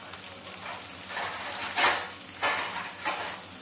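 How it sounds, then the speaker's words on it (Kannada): Onions frying in a pan give a steady, close sizzle and crackle, with a few louder stirring bursts partway through and no talk. "ಹಾಗಾಗಿ ಫ್ರೈ ಆಗಲಿ ಈರುಳ್ಳಿ"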